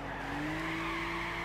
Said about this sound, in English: Little bit of a drift through there as well.